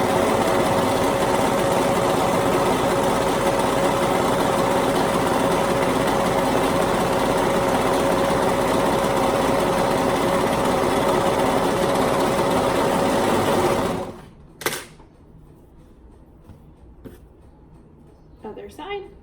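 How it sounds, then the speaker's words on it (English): A sewing machine stitching a seam with a half-inch allowance, running in one long, loud, steady burst before stopping abruptly, followed by a few faint handling clicks and rustles. "And then we'll stitch those with a 1/2 inch seam allowance as well."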